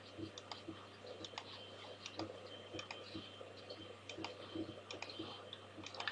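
Repeated light mouse clicks on a computer, scattered and soft across the stretch, with faint keyboard-like ticks and a low steady hum in the room.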